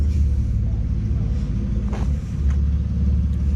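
Drift car with an SR20 turbo engine rumbling low and steady at a drift event, with a faint distant rev and murmured talk nearby.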